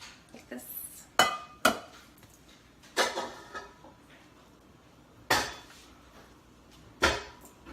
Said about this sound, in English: So we're gonna grab the little sauce pan